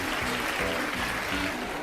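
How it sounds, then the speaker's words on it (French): An audience breaks into brief, dense applause in a French audio drama, a short burst of clapping with no voices over it. "Mesdames et messieurs, je vous demande d'applaudir ce courageux jeune homme."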